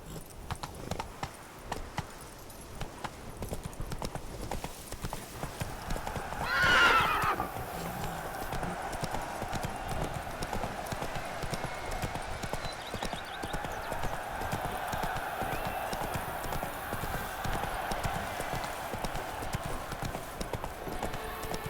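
A horse gallops in The Witcher 3 video game, its hooves clip-clopping in a fast steady rhythm throughout, with a loud neigh early on over a constant low game ambience.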